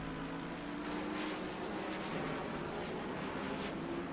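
An airplane passes over the Donington Park circuit in the racing game Assetto Corsa Competizione (ACC), a steady broad engine roar with a droning tonal hum that holds level throughout, alone without voices.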